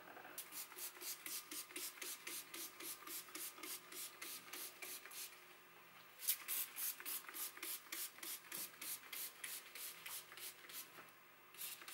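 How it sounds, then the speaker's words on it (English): Trigger sprayer bottle of water mixed with fabric softener spritzed onto furniture indoors in quick, repeated hissing bursts, quiet and close, with no talking. "Spray it on your furniture."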